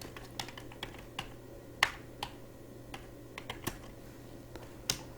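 Typing on a computer keyboard while entering customer names into an Excel sheet: irregular close key clicks with a few sharper strikes, spread across a quiet room without speech.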